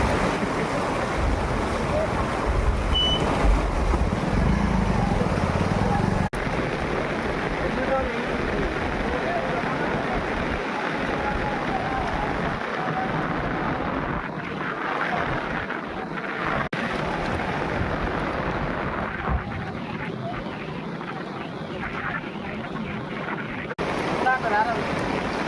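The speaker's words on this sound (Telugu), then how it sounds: "ఈ తీరుగా భారీ వర్షం నీళ్ళు పోతున్నాయి" Heavy flood water from torrential rain rushes past along a main road through a village, a steady loud broadband roar of churning water with wind buffeting the microphone throughout.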